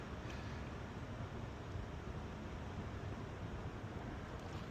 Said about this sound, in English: Now the wind's blowing, of course.